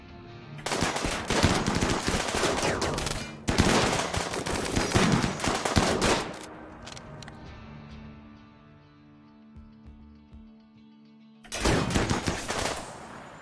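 Colonists in the video game Rimworld open fire in two long, dense bursts of rapid automatic gunfire back to back. A quieter lull follows before another loud burst erupts near the end.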